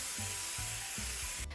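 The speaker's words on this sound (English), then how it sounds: "now it's time to spray paint this big guy" An aerosol can hisses continuously while gold paint is sprayed over a large cake, with soft rhythmic rubbing pulses beneath it and no voices.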